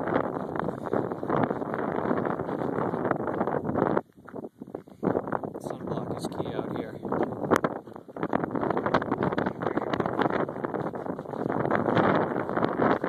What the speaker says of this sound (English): How's the crosswind treating you? Crosswind? Coming from the left.